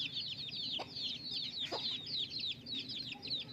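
Desi hens cluck close by over a steady stream of high, rapid peeping from their chicks that continues throughout.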